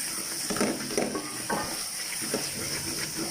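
Tikka masala spice frying in a pan for tandoori beef keema, a continuous sizzle broken by repeated scraping stirs of a utensil against the pan, close and without speech.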